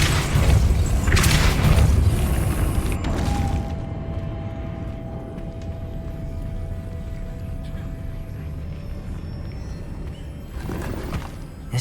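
A Depulso force spell cast in Hogwarts Legacy lands as a loud whooshing burst, followed by a thinner sustained magical hum under a low rumble, with a second swell near the end.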